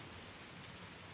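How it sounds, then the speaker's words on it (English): Heavy rain pours down steadily as a dense, even hiss with no break, fairly faint and with no voices or other sounds over it. "The rain came harder. Proper rain now."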